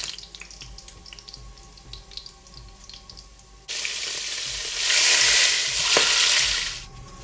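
Beef fries in a pan on medium heat for spaghetti jollof, a loud, steady sizzle that bursts in suddenly after quieter kitchen clatter and keeps crackling to the end.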